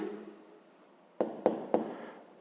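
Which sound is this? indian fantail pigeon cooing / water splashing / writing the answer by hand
writing the answer by hand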